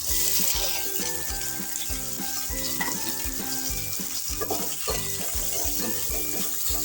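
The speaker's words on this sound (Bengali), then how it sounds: "ভেন্ডিগুলো আমরা ভেজে নেব।" Okra fries in hot oil in a wok, giving a continuous close sizzle and crackle that carries on throughout, with steady background music underneath.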